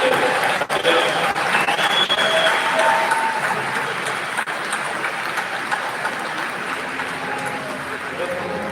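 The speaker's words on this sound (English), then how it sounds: "a big round of applause for all our panelists" Audience applause for a panel of speakers at a live mindset workshop event, a dense, steady roar of clapping at close range sustained throughout with a few sharp individual claps.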